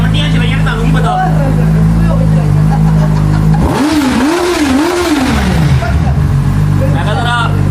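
A motorcycle engine revs loudly and close in a couple of rising and falling surges over a steady idle, with people talking throughout.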